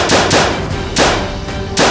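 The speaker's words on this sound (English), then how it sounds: "Go in my glove box, there's a handgun in there. Oh! Okay, shoot out the window." Handgun shots fired out of a car window during a chase, five loud sharp bangs spaced unevenly at close range, each with a short echoing tail.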